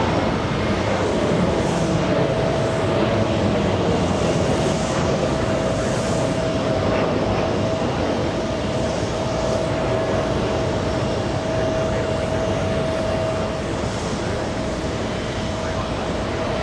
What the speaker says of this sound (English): WestJet taking off